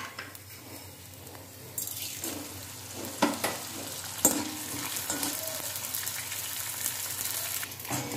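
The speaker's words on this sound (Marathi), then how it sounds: "असा आपला सगळा डिंक तळून झालेला आहे" Edible gum (dink) fries in oil in a pan with a continuous hissing sizzle and occasional stirring clatter, growing louder and busier partway through.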